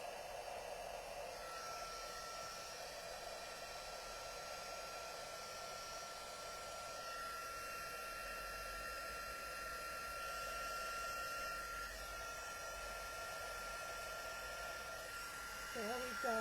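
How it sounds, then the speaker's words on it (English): An embossing heat tool is blowing hot air on a paper snowflake gatefold card. A soft, steady airflow hiss with a faint whine holds evenly for the whole stretch, with no talking heard. "We're going to turn on the heat tool and get it warmed up."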